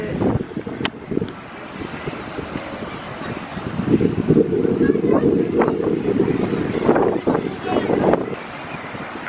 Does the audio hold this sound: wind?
yes